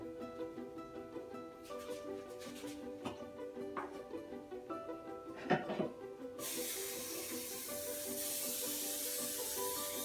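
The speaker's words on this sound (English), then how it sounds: "I'm going to spray my bundt cake pan with cooking spray" An aerosol can of cooking spray hisses steadily for a few seconds as it coats a bundt cake pan, after some quiet kitchen clatter and light background noise.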